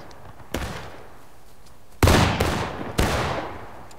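Three sharp gunshots ring out in War of Rights, one fairly distant and two loud, booming reports later, each trailing a long echoing decay across open ground, with no talking.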